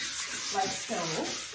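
Sandpaper rubs over a wooden furniture piece being prepped for paint, producing a close, hissing scratch in two short strokes with a few quiet words spoken.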